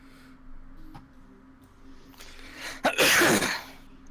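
A single sharp sneeze bursts out loudly after a short quiet stretch with faint background sounds, during a tabletop role-playing game session.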